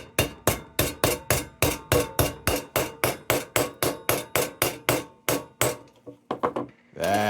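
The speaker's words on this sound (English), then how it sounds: "hit it with a hammer." A hammer strikes a Dietz No. 40 Traffic Gard lantern in a steady run of about twenty loud, close metallic blows, then a few quicker scattered knocks and a final clank.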